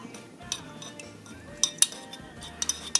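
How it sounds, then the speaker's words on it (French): A spoon stirs a mixture in a dish at home, making quick, light metallic clinks and scrapes that come in small clusters, close and fairly quiet. "On mélange."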